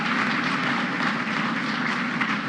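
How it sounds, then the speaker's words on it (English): Crowd applause at a St. Patrick's Day celebration speech, a dense continuous wash of clapping from a large audience that holds steady and even throughout, with no voices over it. "You can clap for that, please."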